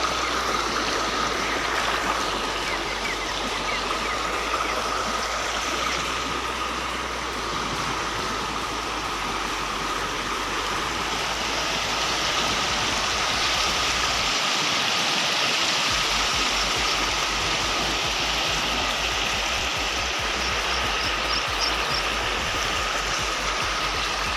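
The Bagad dam is overflowing, and its spilling water gives a steady, full rush and splash heard close up for more than twenty seconds with no talk over it.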